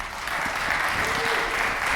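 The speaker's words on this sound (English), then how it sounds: "please give a nice round of applause for our keynote speaker today" A conference audience applauds the keynote speaker, Frederick Van Johnson, at a photography event after lunch; the crowd clapping is full and steady throughout the short burst, with a faint murmur of voices underneath.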